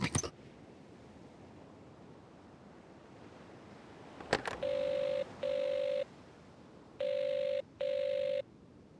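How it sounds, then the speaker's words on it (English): A telephone rings unanswered on a causeway island, four steady electronic trills in two pairs, each about half a second long, heard alone after a sharp click and faint background hiss. "Phone isn't much good if no one will answer it."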